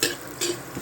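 Onions frying in a pan, sizzling in short bursts with stirring, for a Filipino pork steak dish; close and fairly loud, with no talking.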